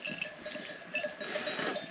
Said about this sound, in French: Regarde tous les moutons, ils vont aller boire.